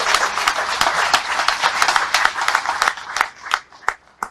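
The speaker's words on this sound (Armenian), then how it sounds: "դուք ձեզ ծափահարեք շատ բարձր" A crowd at a political rally claps loudly, with sharp individual hand claps standing out above a busy clapping bed that thins into sparse, separate claps toward the end.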